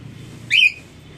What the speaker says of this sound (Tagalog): O, Dennis, pito. Pito.